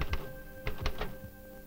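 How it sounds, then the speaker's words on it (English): An automatic typewriter in a universal telereader types out instrument laboratory reports, giving a few scattered mechanical key strikes over a faint steady machine hum. "machines like the universal telereader, which reads the findings of the instrument laboratory in terms of complex curves and types out its reports on an automatic typewriter"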